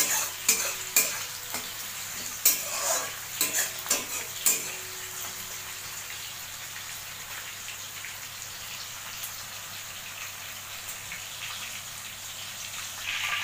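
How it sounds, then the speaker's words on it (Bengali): Chopped onions fry in oil in a pan while being stirred, several scraping strokes at the start giving way to a soft, steady sizzle. "পেঁয়াজটা ভাজা ভাজা হচ্ছে।"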